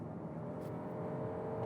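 A 2020 Kia Telluride in sport mode accelerates with a steady, moderately loud engine drone and road hum heard from inside the cabin.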